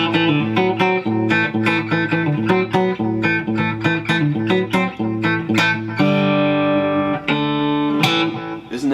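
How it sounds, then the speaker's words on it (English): A clean Telecaster electric guitar through an amp with delay plays a quick, bright picked pattern with repeating notes ringing into an echo, ending on a few sustained chords. "Regular standard telly into an electric amp."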